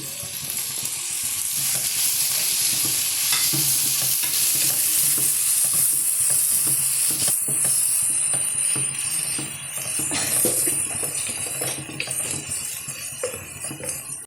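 Chopped tomatoes sizzle and fry in a pan for an aloe vera curry, a steady hiss broken by repeated stirring scrapes and light clinks of a spoon against the pan, close and continuous throughout.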